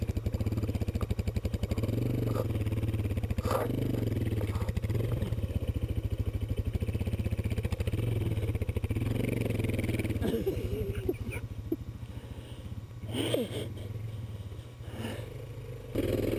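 An off-road motorcycle struggles to get rolling on a hill, its engine chugging low and uneven with intermittent clatter and a few revs nearby.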